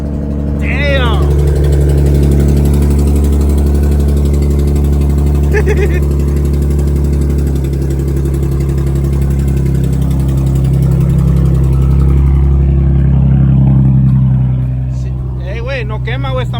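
A Nissan 370Z with a newly fitted exhaust idles and revs with a loud, deep, steady drone close by, swelling slightly midway, while voices chatter over it.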